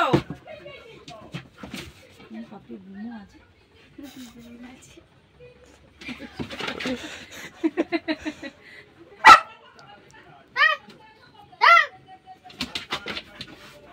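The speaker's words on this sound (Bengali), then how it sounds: "ওটা কুত্তা নাকি এটা কুত্তা?" A dog gives several sharp yelps and barks, loudest around the middle and again in two high whining bursts near the end, while people talk nearby throughout.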